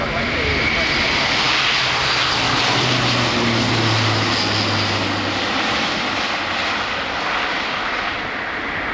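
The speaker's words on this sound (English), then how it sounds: "Airbus Defence and Space A400M." An Airbus A400M four-turboprop military transport flies a display at the Royal International Air Tattoo airshow, its engines a loud, steady, dense roar with a low propeller drone throughout, and a commentator talking over it.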